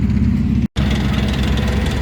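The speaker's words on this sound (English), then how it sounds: "It has a 9-cylinder radial engine in it." A US Army World War II M18 tank destroyer with a nine-cylinder radial engine idles as a museum vehicle, giving a steady, loud low rumble that cuts out for a split second before resuming.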